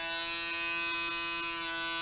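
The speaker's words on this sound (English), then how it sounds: "So you can hear it suctioning onto my skin." PMD microdermabrasion device running against skin on an arm, a steady close electric motor hum and buzz with continuous suction, moderately quiet, no talking.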